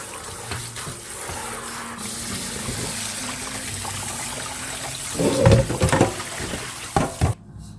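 Cooked naengmyeon noodles are rubbed by hand in water in a kitchen, with a running-water background broken by bursts of close sloshing and splashing near the end.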